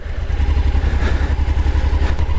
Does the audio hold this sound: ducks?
no